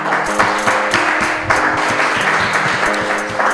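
Applause for a university quiz team at a general-knowledge game show in Lubumbashi, a steady, fairly close patter of many hands clapping with slightly rhythmic pulses, no voices over it.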